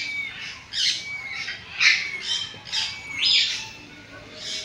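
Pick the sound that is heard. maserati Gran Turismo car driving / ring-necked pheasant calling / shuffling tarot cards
ring-necked pheasant calling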